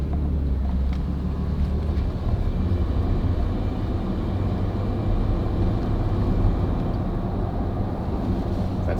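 A Ford Raptor pickup with a broken differential accelerates and holds around 50 km/h, producing a steady low drone of engine and road noise with wind rush, continuous and even throughout, without speech.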